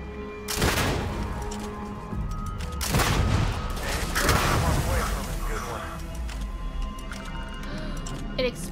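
An explosion in the Starfield video game hits as a loud burst, followed by a string of rumbling booms and cracking blasts over several seconds. The noise tapers into a lingering low rumble.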